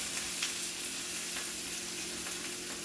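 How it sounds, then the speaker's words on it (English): Cabbage simmering in a pan, giving a steady, even sizzle and faint crackle of frying throughout, fairly quiet and close, with no talking. "you just let your cabbage just kind of simmer a little bit"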